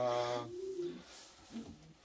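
Racing pigeons cooing nearby, a soft low throaty coo rising and falling, with a second brief coo after a pause over a faint background murmur.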